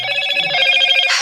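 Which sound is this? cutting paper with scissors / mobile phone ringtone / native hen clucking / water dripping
mobile phone ringtone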